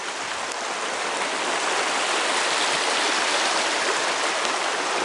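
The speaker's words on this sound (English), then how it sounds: "This is the Sisquoc River." Steady, loud rush of the Sisquoc River flowing over rocks, a continuous broadband roar filling the whole clip with no pauses.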